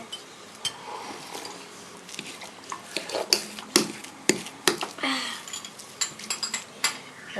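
A fork mashes cottage cheese in a bowl for cheese pancakes, giving close, irregular clinks and scrapes of metal against the dish with soft squishing between the taps.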